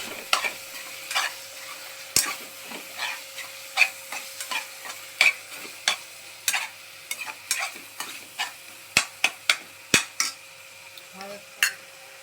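A spoon repeatedly scrapes and taps a pan while roasted masala paste is stirred in oil for Malvani-style chole, producing sharp, evenly spaced clinks over a faint, continuous sizzle.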